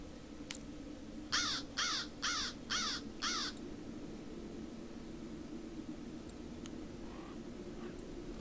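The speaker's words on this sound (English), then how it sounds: "There's a bird." A crow-like bird in the Lord of the Rings Online game gives a series of five harsh, evenly spaced caws over a steady low ambient hum, fairly distant and moderately loud, with no talking.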